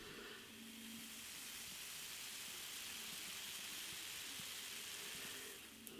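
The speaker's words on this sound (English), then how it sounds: "Hear that carbonation, that hiss, that fizz, loveliness going on." A steady, soft hiss of fizzing carbonation from Love Lane Imperial Stout beer, close and continuous, with a faint clink at the very end.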